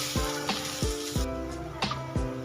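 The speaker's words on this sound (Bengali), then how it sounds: "এবার এর মধ্যে দিয়ে দেবো আগে থেকে ভেজে রাখা ডিমগুলো দু মিনিট নাড়াচাড়া করে নেব" Pre-fried eggs are stirred into a sizzling spice masala, sharp sizzle with four or five distinct scraping strokes of a spatula against the pan, close and loud, no voices.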